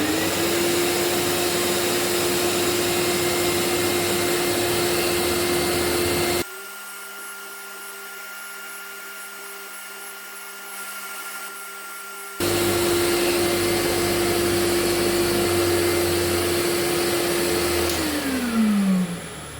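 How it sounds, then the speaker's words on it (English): Shop vacuum running as dust extraction beside a carbide grinding setup, a loud steady whine that drops out for several seconds, returns at full level, then winds down in pitch near the end. "This is just connected to my shop vacuum cleaner."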